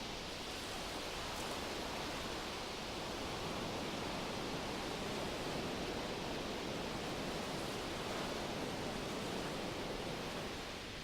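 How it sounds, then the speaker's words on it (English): Ocean waves wash onto a beach as a steady, broad rushing hiss of surf that stays even and continuous throughout, fairly soft, with no voices. "The waves run in and then rush out again with a whoosh."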